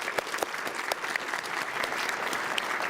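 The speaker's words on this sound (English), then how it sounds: "please join me in a round of applause for everybody who's made tonight possible." A crowd at a live journal launch event applauds with brisk, continuous clapping, individual claps popping out near the front over a full room of hands for a few seconds.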